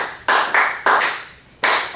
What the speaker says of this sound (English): So when I say clap the beat